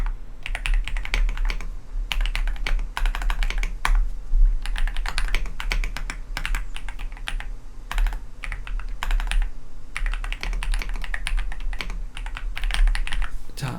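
Steady typing on a computer keyboard while entering Python code, rapid clusters of key clicks with brief pauses between bursts, close and clear with no talking.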